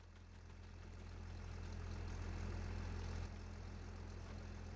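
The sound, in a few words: combine harvester engine in Farming Simulator 25 video game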